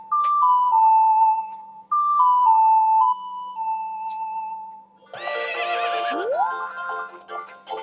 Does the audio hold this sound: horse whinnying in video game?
yes